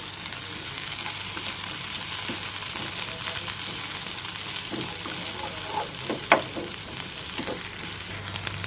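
Garlic and onions frying in a pan, a soft, steady sizzle with scattered light stirring clicks and scrapes, fairly quiet and close.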